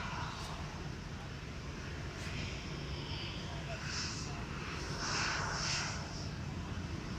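A TUI jet departs Manchester Airport for Fuerteventura, a steady rumbling engine roar at moderate distance with faint wind buffeting and a brief swell near the end.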